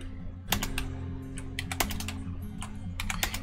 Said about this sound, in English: move over with the keyboard and then R,